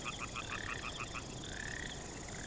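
Frogs croak in a rapid pulsing series that breaks off, followed by a longer trilling call, with steady outdoor background noise and no talk.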